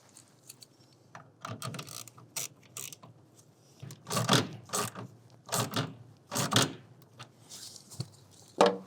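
Ratchet tightening the strap clamp of a BAK Revolver X4 TS hard roll-up tonneau cover on a 2026 Chevrolet pickup, giving clusters of sharp clicking pawl strokes in irregular bursts, close and moderately loud.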